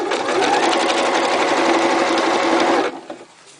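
A sewing machine doing bobbin work runs in a fast, even, close whir for nearly three seconds, then halts, followed by a brief faint clatter.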